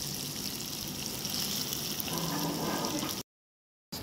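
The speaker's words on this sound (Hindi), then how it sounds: "आलू और गाजर फ्राई हो रहे हैं" Potatoes and carrots fry in a pan with a steady broadband sizzle for about three seconds, then the sound drops out briefly and returns at the end.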